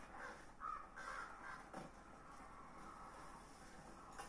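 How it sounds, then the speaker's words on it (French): Crows caw in the God of War video game, with a few harsh calls clustered early and then fading into a steady ambient game background. "J'écoute de temps en temps les corbeaux"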